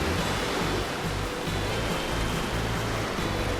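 Rushing water of the Mandeo river near Betanzos, A Coruña, tumbling over a bed crowded with stones: a steady, dense broadband roar, close and constant, with no pauses or voices.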